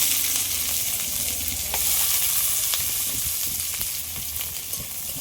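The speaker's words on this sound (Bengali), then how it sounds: "কড়াইয়ের মধ্যে দিয়ে দিচ্ছি পেঁয়াজ কুচি।" Chopped onions hit hot oil in a wok and fry with a loud, dense sizzle, steady throughout with occasional light taps of a utensil, heard close and alone.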